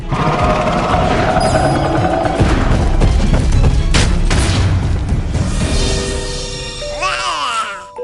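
A loud cartoon bomb explosion with a booming blast and crackling debris that sustains for several seconds before fading into a whistling, wobbling tail.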